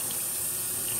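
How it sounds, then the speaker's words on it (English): Tap water runs steadily into a calf feeding bottle, a constant close hiss of flowing water with no voices. "run some water,"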